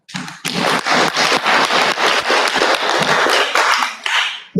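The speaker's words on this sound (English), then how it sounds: "I think Doctor deserves another clap." An audience at a technical team meeting launch gives a sustained round of applause, close and loud, beginning abruptly and fading out after about four seconds.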